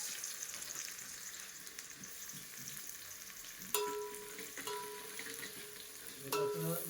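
Onion frying in a pan for a spicy fish curry, a steady crackling sizzle with a few sharp utensil clinks and scrapes partway through, close and moderately loud with no talk.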